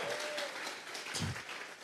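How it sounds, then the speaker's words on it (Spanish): A church congregation at a Tuesday Bible study claps briefly and fairly softly as an offering of praise, a short burst of hands with no voices over it. "vamos a regalarle ofrenda de palmas al Dios de la gloria"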